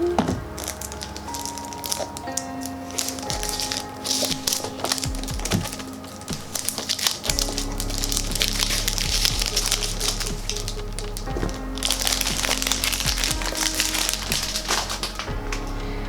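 Perfume packaging, a boxed rose extrait de parfum made in Italy, is cut open close up, giving scattered crackles, taps and scraping that persist for about sixteen seconds over a soft background.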